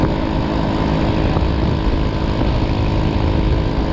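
China Power 50cc four-stroke scooter with weak compression and a struggling vacuum carburetor, ridden along; a steady, loud buzzing engine drone with wind rush runs continuously and close, with no talking.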